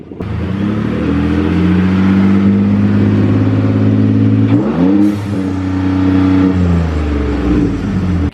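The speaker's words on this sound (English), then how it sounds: "let's hear some rev limiter." A Ford Focus RS EcoBoost engine revs hard up to the rev limiter, a loud sustained droning wail that dips briefly midway and then climbs again, close and with no talking.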